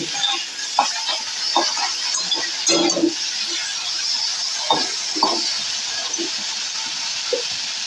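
Tomato chutney ingredients with turmeric are stirred in a hot frying pan: a steady steamy sizzle with intermittent spatula scrapes and clatters against the pan, close and fairly loud.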